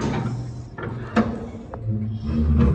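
A house door opens on arrival at home, giving a few short knocks and clunks of the latch and door with faint voices around it.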